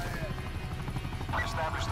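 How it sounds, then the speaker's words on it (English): Attack chopper helicopter in Call of Duty Black Ops 4, a steady low rotor thrum with game gunfire and effects layered over it, while a player talks throughout. "Okay, I got my attack chopper again."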